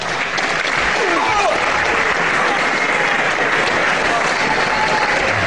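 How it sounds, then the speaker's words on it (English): A 1976 wrestling hall audience applauds the match winner, a loud, dense, sustained roar of clapping from a large crowd that runs unbroken throughout, with some crowd noise mixed in. "I'm sure you give him a very big round of applause"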